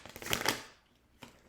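Tarot cards are shuffled in a few quick papery riffles close by, followed by a short pause and one last soft flick.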